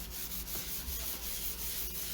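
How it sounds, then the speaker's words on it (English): Wax is rubbed on and buffed off a painted craft piece, a wooden tag or embroidery hoop, giving a steady close scrubbing and rubbing sound with faint rhythmic strokes throughout and no speech. "I'm just rubbing in the wax and then rubbing it right back off."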